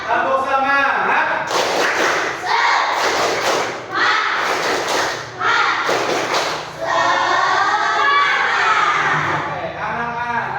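A group of children performs the 'tepuk semangat' clapping cheer, chanting loudly with rhythmic bursts of clapping and thumping in a classroom.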